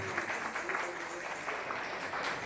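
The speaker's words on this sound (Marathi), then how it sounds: "जोरदार टाळ्या वाजवून सगळ्यांनी स्वागत" An audience at a ceremony claps steadily to welcome an honoree, a dense even patter of many hands heard from within the crowd with some voices mixed in.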